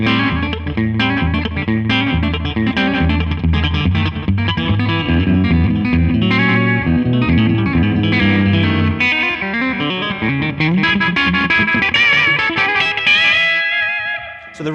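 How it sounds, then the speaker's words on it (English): Electric guitar run through a T-Rex Replicator tape echo switched to its red playback head, distorted riffs and chords repeating with audible delay trails, loud and continuous with no talking. "So you're able to have that delay time by switching to the red head."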